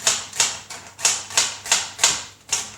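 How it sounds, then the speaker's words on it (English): A knife chops thin slices of celery, leeks and onion on a board, eight crisp, evenly spaced cutting knocks in a quick steady rhythm, close and clear. "I am cutting all my vegetables thin, especially celery, leeks, onion"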